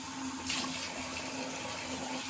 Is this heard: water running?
yes